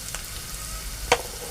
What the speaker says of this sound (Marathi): चांगलं परतून घेऊ.